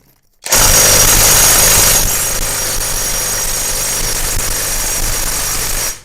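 A Grosser GTW 780 impact wrench hammers at a stubborn nut in a car repair shop, a loud continuous rattling burst that starts abruptly and runs steadily for several seconds, close up with no talking.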